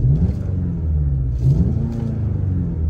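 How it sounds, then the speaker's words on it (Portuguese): A 2023 Volkswagen Jetta GLI engine in Sport mode gives a steady low rumble with slight rises in revs, close and unbroken, with no voices over it. "Só de você mudar aqui do Eco pro Sport, ele já muda o ronco"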